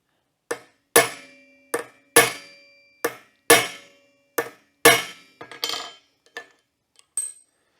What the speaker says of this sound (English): I've got a punch and I got a 2-pound hammer